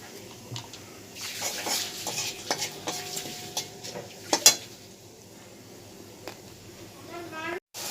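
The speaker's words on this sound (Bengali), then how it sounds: "এবার আমি ফোড়নে দিয়ে দিচ্ছি তেজপাতা, গোটা গরম মশলা, গোটা জিরে।" Bay leaf, whole garam masala and cumin seeds sizzling in hot oil, with soft stirring and scraping clicks over a steady low frying hiss and faint background voice.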